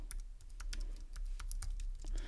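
Someone types text on a computer keyboard, a quick irregular run of close, crisp key clicks over a low steady hum, with no talking.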